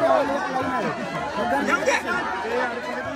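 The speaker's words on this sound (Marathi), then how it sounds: "खतरनाक गर्दी आहे. खतरनाक लई जास्त गर्दी आहे." Huge crowd of devotees at the Ekvira palkhi procession, a loud, dense wash of overlapping voices and chatter close by, continuous throughout.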